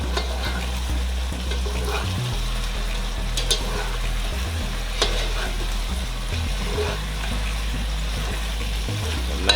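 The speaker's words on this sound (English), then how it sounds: "to the point where it's gonna fry up in its own gravy" Jamaican stew chicken, browned with brown sugar, frying down in its own gravy: a steady close sizzle with occasional stirring scrapes over a low hum, and no voices.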